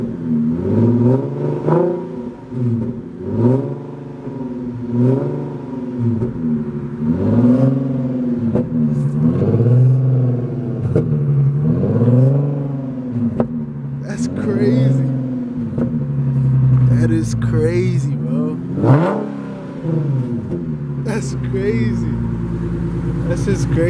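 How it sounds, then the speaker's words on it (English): A modded 2015 Infiniti Q50 3.7L with a muffler delete revs repeatedly, its loud, rough exhaust rising and falling in waves, while people talk over it. "And you just did a muffler delete, and it sounds like this."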